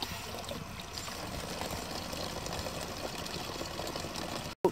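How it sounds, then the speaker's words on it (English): Water running from an outdoor tap into a container at night, a steady close trickle and pour that continues evenly before cutting off abruptly, with a faint low hum beneath. "There's the water filling up"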